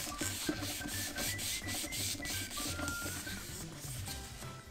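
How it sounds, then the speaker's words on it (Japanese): Steady rubbing and scraping of kitchen paper wiped across a fluorine-coated non-stick pan after bacon is fried at a campsite, a continuous close, moderately loud swishing with a rhythmic back-and-forth pulse. "ベーコンをおろしたら、ちょっとね、汚れてると思うので、ちょっとね、軽くキッチンペーパーで拭いてあげます。"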